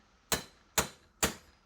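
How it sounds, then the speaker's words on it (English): A ball-peen hammer strikes the end of a rivet cold against an anvil horn, giving four sharp, ringing metallic blows at an even, unhurried rhythm, close up with no talking. "flatten the end with a ball-peen hammer"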